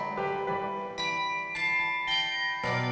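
Church bells are chimed by hand in the pritrkavanje style, with a series of close, ringing metallic strikes that follow one another in an even rhythm about every half second, each tone lingering as the next one begins.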